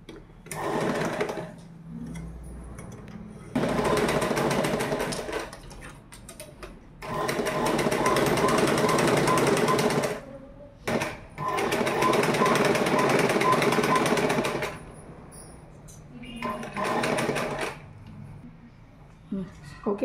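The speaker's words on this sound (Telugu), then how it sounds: "భాగానికి ఒక టాప్ స్టిచ్ వేయాలి." Sewing machine top-stitching the waistband of uniform shorts, running in several loud sustained bursts of rapid whirring stitches separated by short pauses, close up, with brief handling noises between runs.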